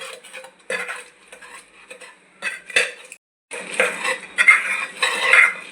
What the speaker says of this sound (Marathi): आपण आता मॅश करून घेऊया